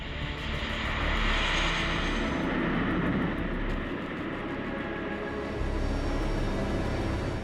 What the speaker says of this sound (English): First introduced in the mid-1950s, the C-130 can utilize virtually any runway surface.